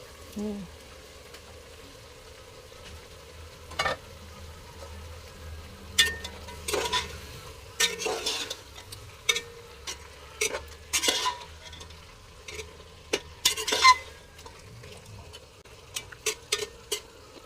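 Pork sautéing in a pan for sinigang: a low steady sizzle beneath repeated clattering stirs and scrapes of a spoon against the pan, growing busier and sharper toward the end.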